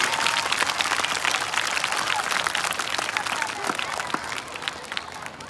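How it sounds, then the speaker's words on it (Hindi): An audience claps loudly and steadily, a dense close burst of applause that keeps going throughout and eases slightly toward the end. "जोरदार ताली बजाओ भाई"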